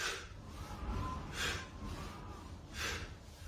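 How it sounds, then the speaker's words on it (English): Three forceful breaths out while rising from squats during a cardio and core workout, at a slow, even pace, each a short breathy whoosh over a low rumbling background. "When you come up out of that squat, you can hear it. Nice strong breath out."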